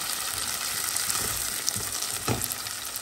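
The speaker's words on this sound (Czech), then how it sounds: "Zarestuju." Chili peppers and garlic fry in a hot pan for chili con carne, giving a steady close sizzle with occasional stirring scrapes and small pops throughout.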